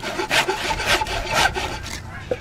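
Rasping strokes smoothing flat the end of a wooden mailbox support post, four or five quick back-and-forth scrapes of a file or rasp on wood, close and alone.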